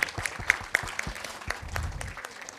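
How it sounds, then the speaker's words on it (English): Audience at a butterfly and bee festival gives a round of applause, a thin scattering of separate claps, a few sharp ones up front, tapering into softer, looser clapping with faint low background rumble. "Please give her a big round of applause."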